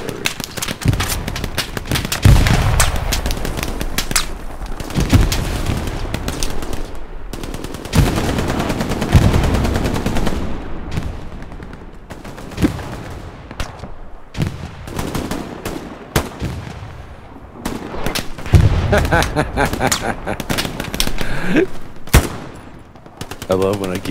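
Battle noise from a shooter video game: bursts of automatic gunfire and heavy artillery blasts come thick and loud, in rapid strings broken by short gaps.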